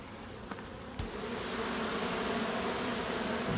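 A few honeybees buzz inside honey supers during a harvest, a faint, steady hum with a couple of brief knocks near the start.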